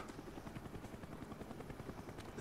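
Helicopter in the game Call of Duty: Black Ops, its rotor chopping in a fast, steady pulse that stays constant and fairly close throughout, with no talk over it.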